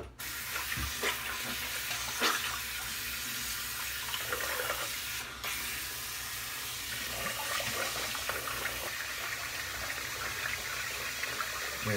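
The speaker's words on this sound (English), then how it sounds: "let me rinse off here." Tap water runs steadily from a faucet into a sink while someone rinses off after a shave, a constant close splashing gush throughout with small shifts in the flow.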